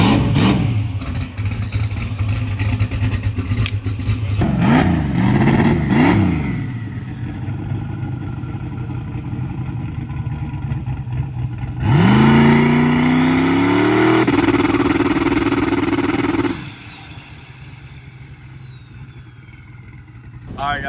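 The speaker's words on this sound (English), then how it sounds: "so we're changing the oil on Jasper's car, about to warm up Karma, running around, drive around, get it through the gears, we'll spool it up" A drag race car engine idles and warms up, then revs in rising sweeps, with one long sustained climb through the gears before settling back to a lower drone; voices talk over parts of it.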